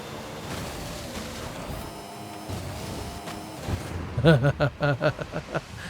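A hypercar in a racing video game is floored, its engine note rising in a smooth whining sweep, then breaking into a rapid series of loud rhythmic pulses near the end, with a voice talking over it.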